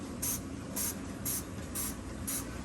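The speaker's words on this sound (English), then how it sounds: "I'm going to spray some of this on this here." A spray bottle fires five quick, evenly spaced bursts of cleaner onto a still-hot oven's glass door, each a short sharp hiss, close by over a low background hum.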